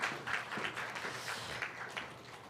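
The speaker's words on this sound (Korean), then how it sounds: "박수 올립시다." Congregation applauding during a Sunday church service, a steady patter of many hands clapping at moderate volume, close and sustained throughout with no voices over it.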